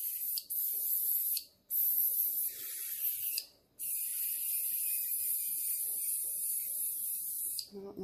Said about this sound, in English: So we're just gonna spray it.